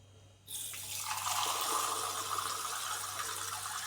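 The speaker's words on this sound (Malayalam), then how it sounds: "ഇനി പ്യൂരിഫയറിലെ വെള്ളം വരുന്നത് കണ്ട." Water pours steadily from a water purifier tap, a broad continuous splashing rush that starts abruptly after a brief quiet moment and holds at an even, fairly close level.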